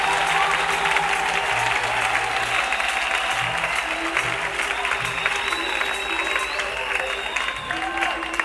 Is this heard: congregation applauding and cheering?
yes